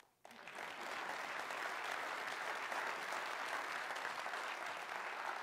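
Sustained audience applause at a city's State of the City address, honoring legislators for securing flood protection; steady, dense clapping begins abruptly after a brief quiet moment and holds evenly throughout.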